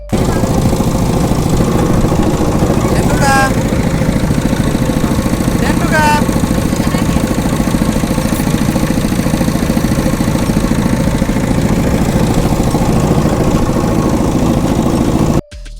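A motorboat engine runs steadily on a river crossing in rural Bangladesh, a constant loud droning hum that fills the whole stretch, with faint voices and brief tonal chirps over it before cutting off at the end.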